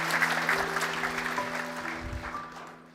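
A church congregation claps together in a warm, sustained burst of applause that gradually thins and fades over a few seconds, with faint voices beneath.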